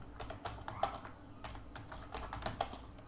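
Python code being typed on a computer keyboard, with close, quick key taps in an uneven rhythm and a few louder strokes standing out, and no talking.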